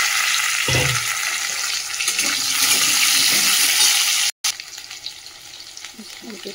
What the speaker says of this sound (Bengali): আলুটাও ভেজে একটু নুন হলুদ দিয়ে ভাজবো